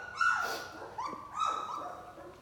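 A young puppy, the biggest of its litter, whimpers in two high, drawn-out cries that bend downward, with a short yip between them, close and fairly loud.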